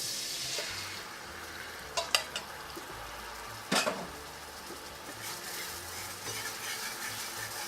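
A spoonful of flour is stirred into oil in a pan for a roast lamb shoulder sauce, giving a soft steady scraping and faint sizzle with a few sharper utensil clinks against the pan; no talking.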